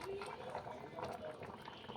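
Wayanad-style fish curry simmers in a covered pot, a soft continuous bubbling and gurgling at low level while a person talks over it.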